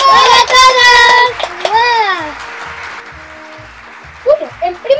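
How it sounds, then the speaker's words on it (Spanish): Studio audience applause for two guests on a parody television show, a burst of clapping mixed with high whooping and cheering voices that quickly thins out into scattered sounds and a few spoken words. "¡Un aplauso!"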